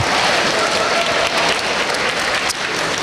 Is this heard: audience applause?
yes